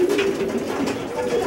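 A breeding pigeon coos steadily in a loft, a low rolling call running throughout at close range with faint background noise and no talk over it.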